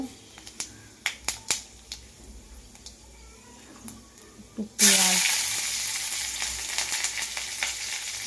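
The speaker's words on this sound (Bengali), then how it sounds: "এবার কড়াইয়ে তেল দিয়ে দিয়েছি, তেল গরম হয়ে গেছে। এবার দেবো 5 ফোড়ন, একটা গোটা লঙ্কা" Whole spices and a dried red chili hit hot oil in a pan and burst into a loud, continuous sizzle after several sharp crackles and pops, with brief speech in the background.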